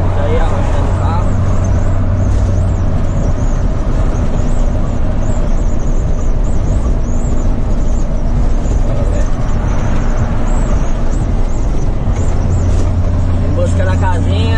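A car being driven along a road, its engine running steadily with low rumble throughout, traffic noise around, no clear rev peaks, with a voice talking over it.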